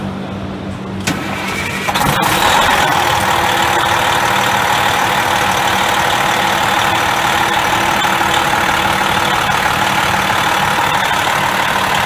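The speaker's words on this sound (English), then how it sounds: "Now you're gonna turn the vehicle on." A car engine cranks and starts, then settles into a loud, steady idle that runs on evenly, with no talking.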